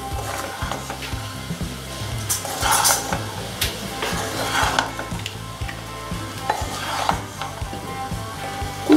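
Egg fried rice is stirred and tossed in a hot pan, crackling and sizzling under repeated scraping spatula strokes in a loose, steady rhythm.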